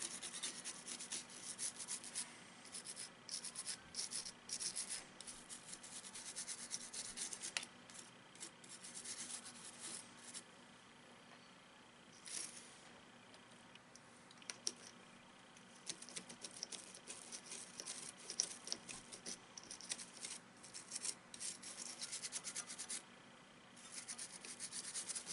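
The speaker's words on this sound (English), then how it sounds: "give the other side a good scrub as well" Contacts on an Xbox 360 controller are scrubbed with a cleaning tool, producing faint, irregular scratchy rubbing strokes in uneven bursts with brief pauses, close up and quiet.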